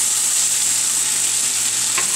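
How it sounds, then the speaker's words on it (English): Spätzle fry in butter in a frying pan, giving a loud, steady, close sizzle with a faint scrape near the end and no talking. "I'm quickly frying the spätzles in a little bit of butter"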